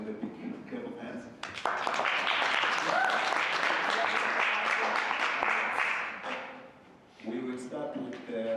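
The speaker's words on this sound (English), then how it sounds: "Let's welcome them with a big clap of hands." An audience at a Human Rights Day workshop breaks into applause to welcome speakers, a dense burst of clapping that swells for several seconds and then fades, with voices heard before and after it.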